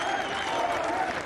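A golf crowd breaks into rapturous applause during the final round of the 2024 Amgen Irish Open, a dense, steady roar of clapping.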